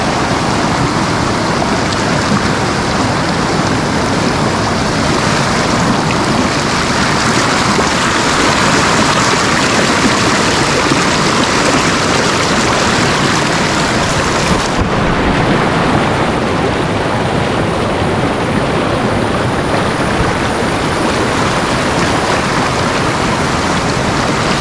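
Fast-flowing, knee-deep stream water near the Kshirdhara waterfall at Channat, heard while wading across: a loud, dense, continuous rush and roar, close and steady throughout, with no talk.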